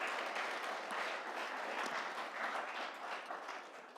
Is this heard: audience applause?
yes